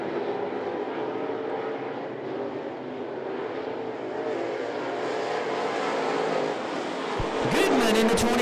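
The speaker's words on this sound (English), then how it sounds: "Crate late model heat race number 2." Crate late model race cars in a heat race at I-75 Raceway, their engines droning as a steady loud roar throughout, with a sharper rise near the end.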